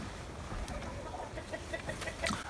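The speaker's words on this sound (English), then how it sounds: "I have three broody hens right now, two Sussex and a Bress." Broody Sussex and Bresse hens cluck in short, soft, repeated notes at close range over a steady background hiss, with a slightly louder burst of clucking near the end.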